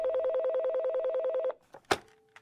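A telephone rings with a steady electronic warble of rapid repeating pulses for about a second and a half, then cuts off as the handset is picked up with a brief clatter.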